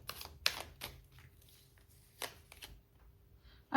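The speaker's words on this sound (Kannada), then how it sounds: "ಇದಕ್ಕೆ ಇಲ್ಲಿಂದ ಒಂದು ಕಾರ್ಡ್ ನೋಡೋಣ." Tarot cards handled and drawn from a deck, heard as a few sharp, close card snaps and riffles with quiet rustling between them.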